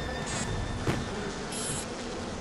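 In the video game Bioshock, a swarm of bees hums with a steady, moderately loud buzz that continues throughout, with no voices.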